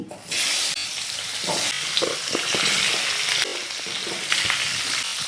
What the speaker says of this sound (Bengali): এখন এই তেলের মধ্যে টমেটোটাকে আমি ভেজে নেব দিয়ে দিচ্ছি